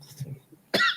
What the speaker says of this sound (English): your cough is knocking my sound out